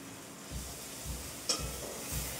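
Ginger and tomato sauté in a pan for a fish curry, a steady soft sizzle broken by a few rhythmic stirring scrapes and one brief metallic clink, close and moderately loud, with no talking.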